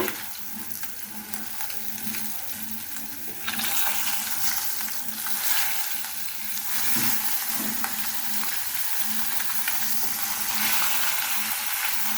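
Fish frying in hot oil in a pan, a loud, close, continuous crackling sizzle that swells slightly midway and keeps going without pause.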